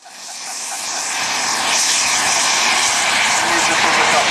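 Model Grumman Panther aircraft fly overhead at a model flying display, a loud, steady, broad engine roar that swells over the first second and then holds.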